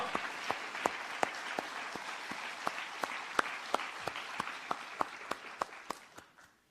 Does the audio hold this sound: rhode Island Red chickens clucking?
no